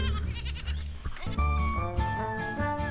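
Sheep bleating in a lively, overlapping series of calls that stay close and fairly loud across the whole stretch, with a low rumble underneath and no speech.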